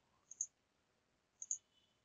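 Two computer mouse clicks, each a quick double tick, spaced about a second apart, crisp and close in an otherwise quiet room.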